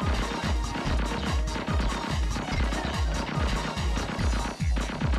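A blocked passage is smashed in the PSOne shooter Gungage, a rapid, continuous pounding of heavy impacts in steady rhythm, loud and close throughout.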